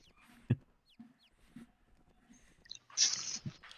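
Chickens cluck in the online fantasy game Mabinogi, with a few short, scattered clucks early on and a louder, fuller burst of squawking near the end, all heard alone.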